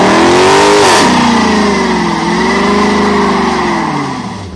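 A Dodge Charger engine revs loudly and steadily up close, its tone climbing and sagging in waves before easing off at the end.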